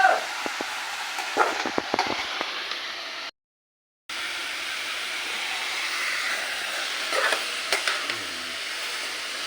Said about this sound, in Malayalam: ഇടയ്ക്കിടയ്ക്ക് ഇളക്കി കൊടുക്കണം കേട്ടോ.